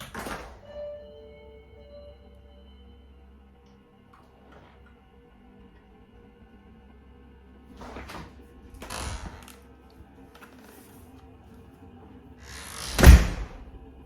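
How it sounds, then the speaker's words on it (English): Quiet room tone with a few soft knocks and rustles, then a sharp, close thump near the end as a door opens. "it sounded like something was just like opening a door or something in here"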